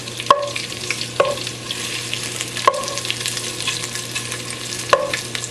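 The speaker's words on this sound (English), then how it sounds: "we're going to let that bacon cook up a little bit more. Get that browning." Bacon frying in a pan on the stove, a steady broadband sizzle with sharp clinks of a utensil stirring or turning the strips about four times, no talking.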